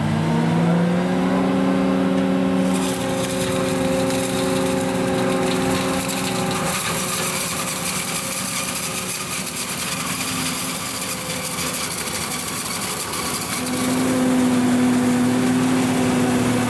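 A New Holland FR 920 forage harvester works through a maize silage harvest. Its engine and cutting gear give a loud, steady roar with a droning tonal hum that dips slightly midway and then rises again toward the end. No voices are heard.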